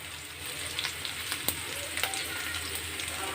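Onions and green chillies frying with salt in a pan, a steady close sizzle with occasional sharper pops and light stirring scrapes.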